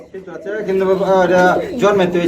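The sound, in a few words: fancy pigeons cooing at a pigeon seller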